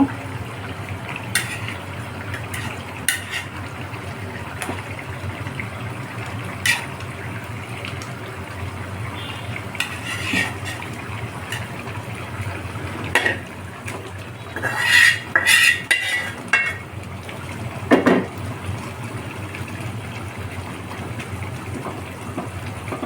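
Egg curry with fried eggs and boiled potatoes cooks in a pan over a low, steady hiss, as a utensil stirs with sparse clinks and scrapes that cluster into a few brief bursts later on.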